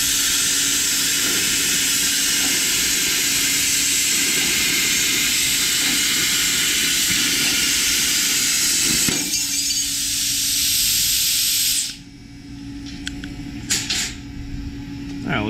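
A plasma cutter drag-cuts metal with a loud, steady, harsh hiss that runs for about twelve seconds and then cuts off sharply, leaving fainter clatter and a few voices.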